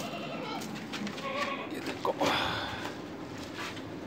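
A goat being fattened for Eid bleats a few times close by, with a clatter of feed handling and a steady background around it.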